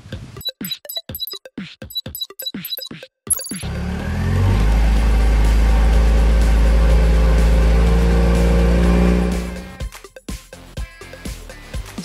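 A Toyota car engine: a series of sharp clicks and taps gives way to a loud, steady, low engine roar that holds for several seconds and then drops away. No one speaks.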